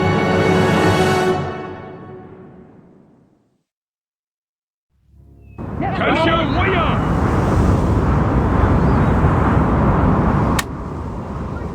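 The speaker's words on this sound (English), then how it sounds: "Once again, the cannons would speak." Cannon fire on the Waterloo battlefield in the Total War: Napoleon video game: a loud booming blast swells after a fading tone and a silent pause, with a sharp crack near the end, under a voice.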